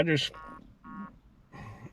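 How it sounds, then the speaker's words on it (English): Electronic phone beeps in a food delivery driver's car: two short, evenly spaced tonal beeps after a brief burst of voice, then a longer third tone, all moderately loud over a low background rumble. "my phone's going boot boot."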